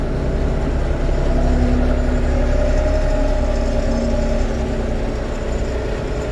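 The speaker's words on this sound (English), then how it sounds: "I'm gonna rev up the RPMs here" An LS tractor engine drones and labors steadily uphill while running a Tar River drum mower, its low rumble holding a strained, revved pitch with no voices over it.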